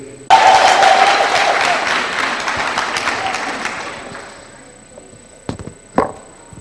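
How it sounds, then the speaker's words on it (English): An audience claps loudly at a business workshop in Orange Farm. The dense applause begins abruptly, fades over a few seconds, and ends with a couple of scattered claps. "Let's give him a round of applause."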